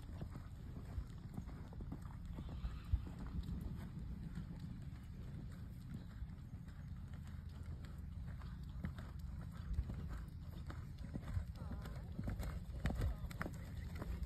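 Hoofbeats of a horse cantering in an arena during a flat riding lesson, a steady rhythmic clip-clop running throughout at moderate distance, with some wind noise on the microphone and an instructor's voice calling out at times.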